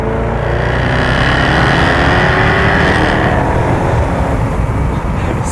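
Jaguar F-Type V8S on a mountain road, its V8 roaring loud and continuous under hard acceleration, a dense raspy engine note heard from close by, no voices.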